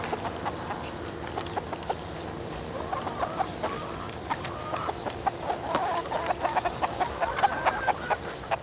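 Chickens cluck in a farm pasture, their clucks and squawks rising and falling at a moderate distance over steady outdoor background noise.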